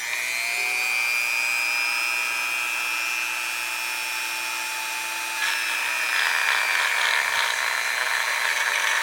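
A small high-speed rotary tool fitted with a sanding wheel and sandpaper disc whines steadily at a high pitch, loud and close, then changes tone partway as it starts grinding.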